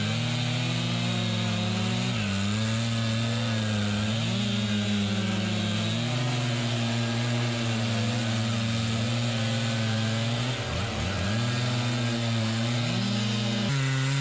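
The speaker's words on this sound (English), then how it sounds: "The masters had to use the largest and most powerful chainsaws." A large, powerful chainsaw cuts through a big tree trunk with a loud, continuous snarl. The engine pitch sags and rises as the bar bites deeper into the wood.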